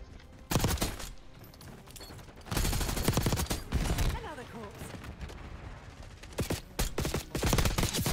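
Call of Duty gunfire crackles in rapid bursts, loud fusillades of shots with sustained automatic volleys between short pauses.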